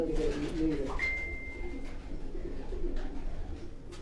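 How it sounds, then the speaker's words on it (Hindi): Sialkoti pigeons coo softly and low, a murmuring layer of calls close by with a faint whistle-like tone briefly above them. "ये सियालकोटी कबूतर हैं ये।"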